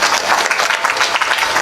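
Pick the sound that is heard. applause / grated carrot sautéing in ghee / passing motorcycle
applause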